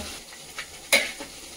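Mutton and fat in hot oil give a quiet, steady frying hiss, broken by a couple of brief stirring scrapes and one sharper clink, close up with no talk.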